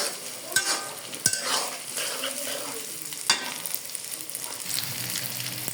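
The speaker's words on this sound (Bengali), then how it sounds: "এই যে আমি সুন্দর করে সবজিগুলো ভেজে নিয়েছি" Vegetables stir-frying in a pan crackle and hiss close up, with several sharp spatula knocks and continuous scraping stirs over a steady sizzle, no voices.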